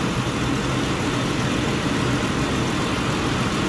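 A car engine idles with its clutch fan running, giving a loud, dense, unbroken whirring roar at close range with no talking.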